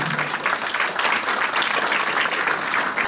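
Guests at a Brussels charity gala give warm, sustained applause as the evening's organiser is welcomed onstage, a thick, even patter of many hands clapping throughout with no voices on top.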